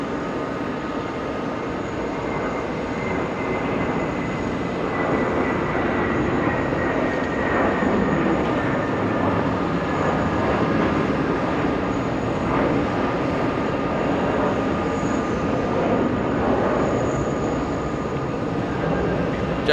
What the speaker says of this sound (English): Jetblue 163 heading to Sarasota. That's a little A320.